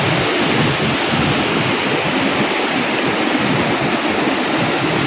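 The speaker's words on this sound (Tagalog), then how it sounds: "Grabe kalakas ng alon." Strong ocean waves crash and churn in a continuous, loud roar of surf close by, with a steady wash of rushing water and some wind buffeting throughout.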